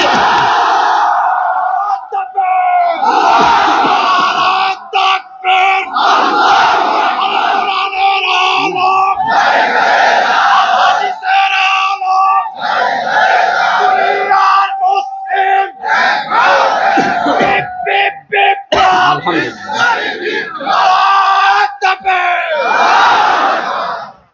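A large crowd at an Islamic sermon shouts takbir in unison over and over, with loud massed chanting in repeated bursts and brief pauses between them.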